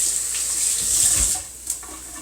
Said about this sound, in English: And I'm going to wash my hands.